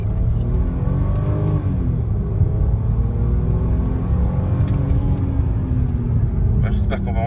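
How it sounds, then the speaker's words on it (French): BMW 5 Series six-cylinder engine revving and pulling, a steady loud rumble with rising pitch sweeps, heard from inside the car while people talk over it. "j'espère qu'on va entendre dans la caméra le 6 cylindres"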